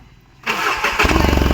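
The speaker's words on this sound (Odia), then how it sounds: "ଗାଡ଼ି ଷ୍ଟାର୍ଟ ହେଇଗଲାଣି।" A vehicle engine cranks and catches after a quiet moment, then settles into a steady mid-pitched idle with a pulsing rhythm, close and loud.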